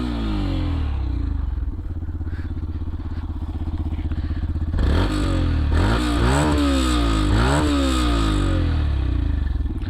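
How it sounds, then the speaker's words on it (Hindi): A Yamaha FZS V3 BS6 motorcycle engine idles steadily, then revs up hard toward 9000 RPM in repeated rising throttle blips, loud and close, with no talk over it. "देखो पूरी 9000 RPM तक रेव होती है।"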